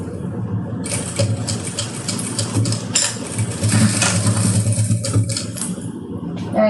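A domestic sewing machine runs a steady line of stitches through bias binding on a small fabric pouch, a close, continuous mechanical whir with slight rhythmic variation and no talking.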